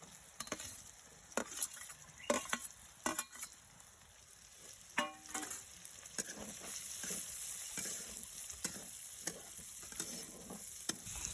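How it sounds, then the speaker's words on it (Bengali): Chicken stir-fried with already-fried vegetables for restaurant-style chicken fried rice, a steady loud sizzle broken by repeated sharp scrapes and clatters of a spatula tossing the food in the pan, with no talking. "আমি চিকেনটা ভালো করে ভেজে নিয়েছি। এর মধ্যে দিয়ে দিচ্ছি ভাজা সবজিগুলো।"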